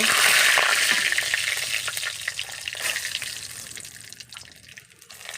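Bay leaves and spices sizzle and fry in a hot pan for tomato chutney, with scraping stirring strokes over a continuous crackle that starts loud and gradually quiets.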